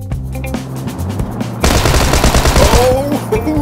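Tommy gun fire in the shooter game PUBG: after a quieter stretch of game sound, a dense sustained burst of automatic gunfire erupts and rattles loudly for about two seconds before tapering off.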